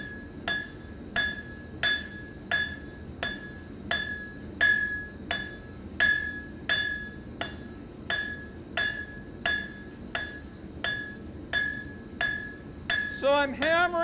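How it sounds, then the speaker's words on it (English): Steel struck repeatedly on the round horn of an anvil while forging a fire poker, sharp ringing metallic blows in a steady rhythm, close and loud, with a brief squeal at the end. "So I'm hammering on the round horn"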